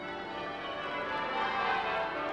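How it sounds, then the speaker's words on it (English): The bells of Westminster Abbey ring out during the funeral procession of the Queen Mother, a rich, sustained wash of pealing tones heard from a distance, steady and fairly quiet, no talking. "Accompanied by the bells of Westminster Abbey, the Queen Mother's final journey out of the nation's life began."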